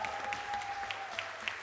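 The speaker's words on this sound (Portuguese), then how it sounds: "Pedir uma salva de palmas." Applause fills a council chamber during a health and social-promotion committee session, a steady wash of clapping hands from a crowd, fairly faint and even throughout.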